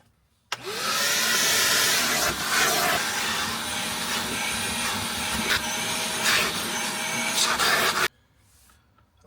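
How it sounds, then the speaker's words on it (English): A loud, steady vacuum cleaner motor roars for about eight seconds while cleaning a Nissan 350Z car seat, starting and stopping abruptly, with a constant high whine and broadband hiss. "I'm going to go grab a vacuum and get this cleaned up."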